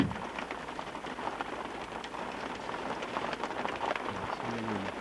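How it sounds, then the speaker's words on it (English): A steady, fairly soft patter of raindrops falls on the head, continuous and close with no talking. "Hear the raindrops on our head?"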